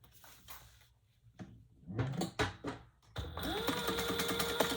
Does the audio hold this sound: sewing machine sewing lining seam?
yes